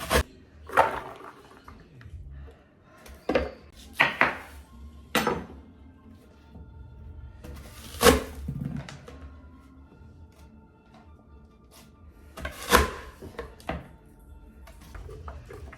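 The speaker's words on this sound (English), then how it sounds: "So let's go ahead and get these guys chopped up right quick and bag." Onions and other vegetables being cut on a board during kitchen prep, heard as scattered knife strikes and clatters of dishes and utensils at irregular intervals, fairly close and moderately loud, with no talking.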